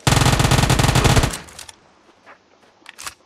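Rapid automatic gunfire from a video game rattles loudly and densely for over a second, then cuts off, leaving a quieter background with a couple of faint later bursts.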